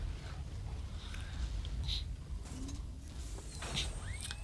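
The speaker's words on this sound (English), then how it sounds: "all the whirring and all the pieces coming together and falling apart" Whirring, creaking mechanical parts shift and lock together in the StarCraft Heart of the Swarm trailer. The sound stays fairly faint over a steady low rumble, with occasional brief metallic glints.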